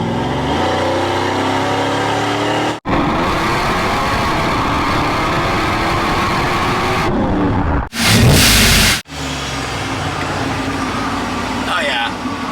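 A supercharged 1995 Ford Lightning pickup accelerates hard on boost alone, its engine roaring and climbing in pitch. The roar is broken by brief cuts and a sharp burst of noise, and a voice can be heard over it.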